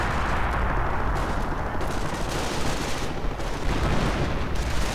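Dense gunfire and artillery from a 1v1 strategy war game keep up a loud, continuous barrage of rapid shots and booms, with no pause throughout.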